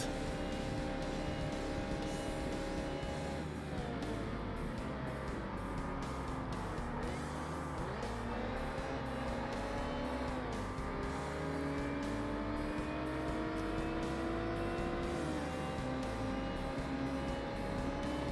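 A race car engine in a Forza career-mode race drones continuously and close, its pitch climbing and dropping through gear changes and steady acceleration, with no talking over it.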